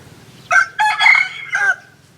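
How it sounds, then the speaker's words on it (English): A rooster crows once in Bagan, Myanmar, a loud, close, broken call of three or four strained bursts that sounds oddly hoarse and wavering. "That is a rooster making that strange noise."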